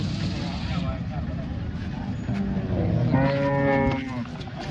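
A cow lowing at a busy Modnimb cattle market, a single long, loud moo in the second half, heard against constant crowd murmur and people talking.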